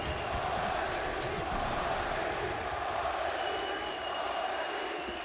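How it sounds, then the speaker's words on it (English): A large arena crowd at IEM Katowice during a Natus Vincere vs G2 esports match keeps up a sustained, dense roar of many voices that sounds like a continuous chant, steady and fairly distant throughout. "A rousing chant from the crowd, and why not?"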